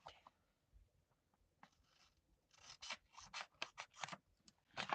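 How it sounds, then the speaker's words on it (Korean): Scissors snip through paper for a vintage journal in close, quiet crisp cuts, a few isolated snips at first, then a quicker run of cuts, with no talking. "가위로 자르는 게 나을 것 같아요."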